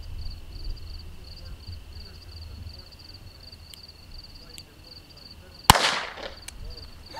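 A single sharp report from a double-action .22 Long Rifle revolver with an 8-inch barrel cracks out near the end after a stretch of quiet outdoor ambience with insect chirping.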